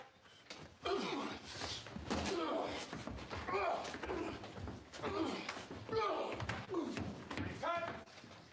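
A door slam sound effect, a heavy thud standing out among louder surrounding talk and other thumps in a lively conversation.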